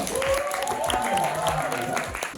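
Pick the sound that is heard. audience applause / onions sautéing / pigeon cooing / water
audience applause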